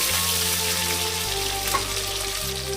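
Continuous crackling sizzle of onions sautéing in hot ghee and oil, close and steady throughout with no voices.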